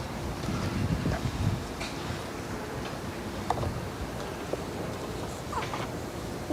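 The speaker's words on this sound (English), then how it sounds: "Oh, he's getting wind in his face." Wind buffeting a microphone outdoors, a steady loud rumbling roar with gusting flutter throughout and no voices.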